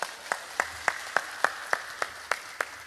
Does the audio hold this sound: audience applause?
yes